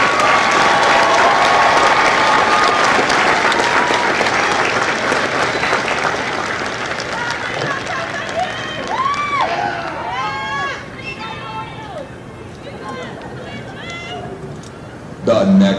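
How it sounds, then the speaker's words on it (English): A crowd applauds the company staff at a Marine Corps Recruit Depot San Diego graduation ceremony for Lima Company. Loud sustained clapping gradually fades, giving way to scattered cheers and calling voices. "please join me in a round of applause for the company staff of Company L."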